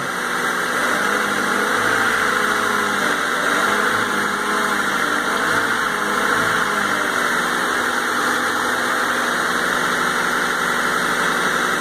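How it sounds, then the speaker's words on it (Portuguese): A 1998 Honda Civic EX engine idling, a steady close-up mechanical hum with a faint airy hiss and no change in pace from start to finish, with no voices. "Mas esse motor tá com ruído muito gostoso."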